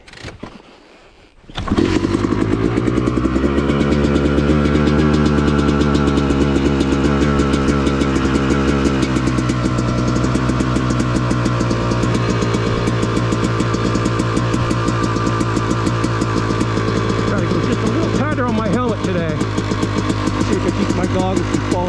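A Yamaha YZ250 two-stroke dirt bike runs loud and close on a wooded off-road OHV trail, its engine buzzing steadily for about twenty seconds after a quiet start, with rising and falling revs through the ride.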